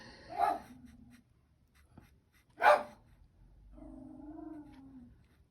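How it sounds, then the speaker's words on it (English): Two short, sharp barks from a dog, spaced about two seconds apart, followed by a low drawn-out whine or growl, all moderately close. "sorry about the dogs barking in the background"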